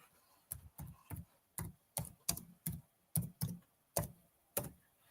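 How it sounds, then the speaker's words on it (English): Letters typed on a computer keyboard: about a dozen crisp, close keystrokes in an uneven rhythm, with short pauses between small bursts and no talking. "let me type it in for you"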